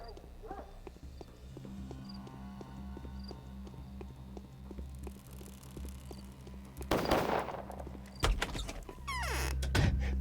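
Gunshots ring out in the video game Pathologic, two sharp blasts late in the clip following a steady run of rhythmic footfalls and ambient game sounds.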